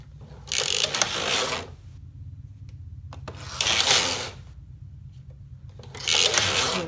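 A knitting machine carriage slides across the needle bed in three separate passes, each a close, rattling mechanical whir lasting about a second, with quiet pauses between them.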